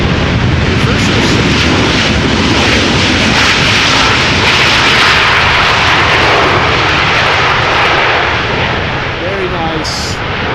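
An airliner's thrust reversers roar loudly after landing at Amsterdam Schiphol on a windy day, a sustained broadband rumble that holds for several seconds and then begins to ease off.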